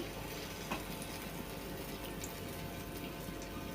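Steady, dense sizzling of urad dal vada frying in hot oil, constant and close, with no talking.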